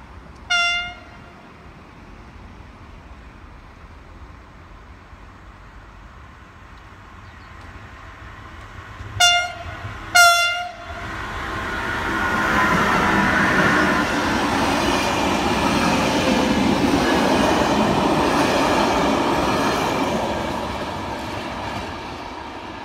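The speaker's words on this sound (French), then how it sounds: "Merci au conducteur pour son sifflet à plusieurs reprises." A train horn sounds a few short blasts, then a train on France's Line H rumbles past steadily, building and fading over a long stretch.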